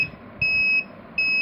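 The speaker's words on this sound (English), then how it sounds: "it starts beeping, and as the ruler gets nearer to the sensor, it started increasing the frequency of the buzzer" Two steady electronic beeps from an ultrasonic sensor's buzzer as a ruler nears it, each lasting under half a second, close and clear with quiet gaps between them.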